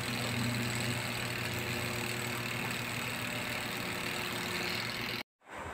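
The motor of a spin air dryer machine hums steadily and close at an even, continuous level, then cuts off abruptly near the end before a faint hum returns.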